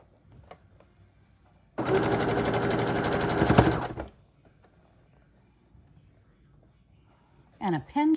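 A sewing machine runs across quilt block seams in one loud, steady burst of rapid stitching lasting about two seconds, with quiet surroundings afterward and a voice briefly speaking at the end.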